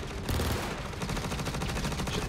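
Rapid automatic gunfire in the video game Star Citizen, a close, loud, steady stream of shots rattling without pause.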